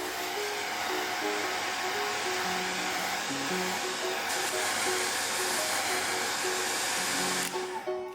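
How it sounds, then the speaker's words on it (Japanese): Hair dryer blowing steadily and loudly to dry a watercolor pencil painting, a constant whooshing hiss over quiet background music, cutting off near the end. "ドライヤーで一気に乾かしましょう"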